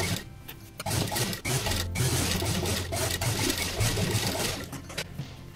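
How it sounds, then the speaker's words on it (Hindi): A sewing machine runs steadily for several seconds, stitching bias-strip piping close along the neck edge of a boat-neck kurta, with a continuous close mechanical whir and fast needle clatter and no speech. "एकदम किनारे किनारे हम सिलाई लगाएंगे"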